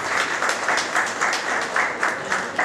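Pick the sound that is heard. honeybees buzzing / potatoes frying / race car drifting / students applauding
students applauding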